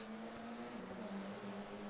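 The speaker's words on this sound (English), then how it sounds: "You hear them motors roaring." Faint, steady engine drone of F4 race cars in the iRacing video game at Concord Speedway, constant pitch, distant and continuous, with no voices.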